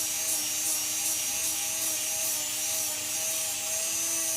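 A Dremel rotary tool grinds steadily at a desk while a Dragon Ball Z prop is shaped, giving a continuous high whine with small pitch wobbles and no talk over it.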